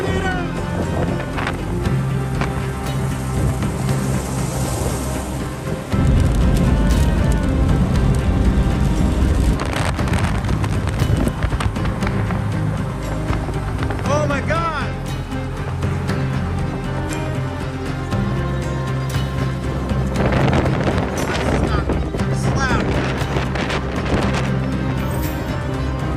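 Tornado wind roaring and buffeting against a microphone, loud and continuous with gusty surges and rumbling, while voices are faintly heard under the roar.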